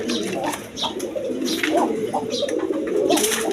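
Pigeons for sale, including large black birds, coo in soft repeated throaty calls close by, overlapping in a steady murmur with a few brief chirps mixed in.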